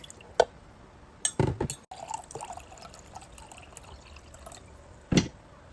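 Half a cup of water poured into a cooking pot while making North Carolina BBQ pork, heard as a few short splashing bursts and drips against quiet kitchen background.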